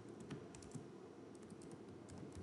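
Quiet, steady typing on a computer keyboard while editing a configuration file in Vim on a CentOS/RHEL 7 Linux terminal, a continuous patter of soft keystrokes with no voice.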